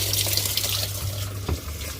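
Water runs steadily through a washing machine's inlet valve after a torn 27mm diaphragm was repaired, a close gurgling flow with a low hum underneath.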